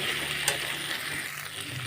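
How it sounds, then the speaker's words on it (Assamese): Hot water poured into a frying catfish curry with capsicum and potato produces a brief, steady hissing sizzle close by. "এতিয়া গৰম পানী দি দিওঁ,"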